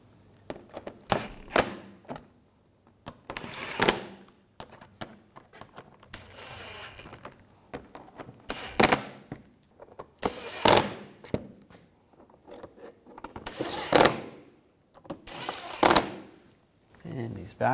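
A wrench tightens the radiator mounting bolts on a 2011-2018 Volkswagen Jetta 2.0L, giving about seven short metallic bursts of clicking and ratcheting spaced a second or two apart, close by, with quieter handling noise between them.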